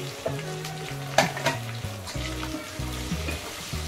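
Tomatoes dropped into fried onions in a pan, a close sizzle with sharp scrapes and knocks of a stirring utensil, over a low hum, with no voices.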